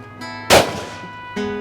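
A single loud, close shotgun blast from a Krieghoff K80 on a sporting clays course, sharp and then quickly decaying, with a low tonal hum before and after.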